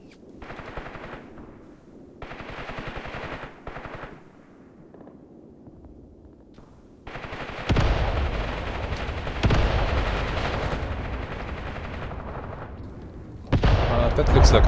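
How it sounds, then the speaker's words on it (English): Battle in the war game Graviteam Tactics with a 5 cm mortar and gunfire: loud, dense bursts of rattling gunfire and impacts come in several separate stretches, with quieter gaps between them. "That looks like a 5 cm mortar hitting."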